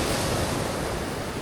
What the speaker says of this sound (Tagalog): Lakas ng alon talaga ngayon.